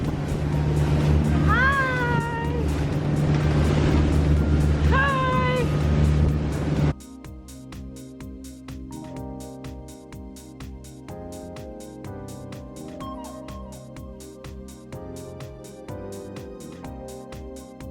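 A loud, steady boat engine drone near Positano, Italy fills the first part with voices calling out over it, then gives way to a quieter, clanking mix of sounds.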